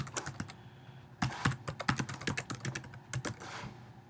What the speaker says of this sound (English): Just going to type in.